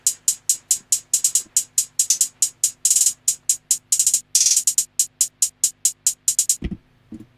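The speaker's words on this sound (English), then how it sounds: "Next up, we got the basic hi-hat. This is just literally just a basic hi-hat." A basic hi-hat sample ticks in a fast, steady beat pattern of crisp, bright hits, alone and close, stopping near the end as a low thump enters.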